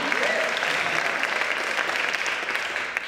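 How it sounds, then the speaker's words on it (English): Audience applause fills a theater lobby event, a steady dense wash of clapping held at even loudness for a few seconds, with no voices over it. "I'll give that a clap as well"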